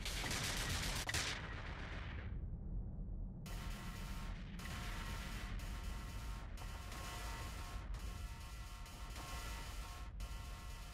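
Video game gunfire aimed at ogres in a 2v2 T1 Cruiser tournament match on the Metalworks map comes as a heavy burst, a pause, then repeated sharp volleys with short gaps, loud and close against a rumbling background.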